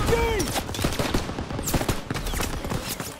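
Heavy weapon gunfire in Call of Duty: WWII rattles in a dense, continuous fusillade of rapid overlapping shots with scattered impacts, loud and close throughout.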